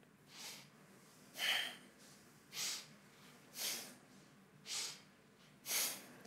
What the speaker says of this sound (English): a little more powerful breath, which we call sniff and throw breath, sort of sniffing the breath in, throwing it out